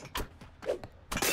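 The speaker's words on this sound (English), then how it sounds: "Smashing things." Objects smashing and breaking in the co-op moving game Moving Out: a series of sharp shattering crashes with glassy clinks, ending in a louder burst of breakage.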